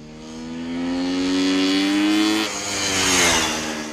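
A 1973 Kawasaki 750 H2 two-stroke triple motorcycle accelerates hard, its engine note climbing steadily in pitch, dropping briefly at a gear change, then rising again, loud and fairly close.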